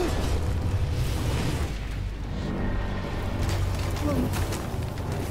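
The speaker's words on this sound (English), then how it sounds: "that's gonna cause more explosions" Rumbling booms and bursts of explosions in The Quarry video game, a dense low roar filling the whole stretch with a few sharper pops, while a player talks over it.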